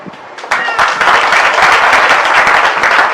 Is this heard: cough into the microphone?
no